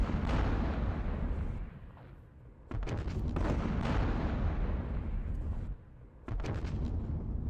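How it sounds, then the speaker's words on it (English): A Quad 50 anti-aircraft gun in a Vietnam War battle game fires at infantry during the Battle of Hue, heavy booming bursts that roll on continuously, with brief pauses between strings of fire. "Still have some shots here with the Quad 50. Just a nasty anti-air gun that we're using against infantry right now."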